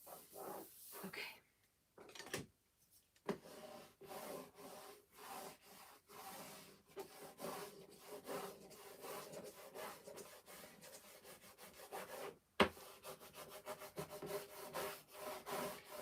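Repeated rubbing strokes burnish jagged wooden edges, a close, dry scraping rhythm that pauses briefly a few times before resuming steadily.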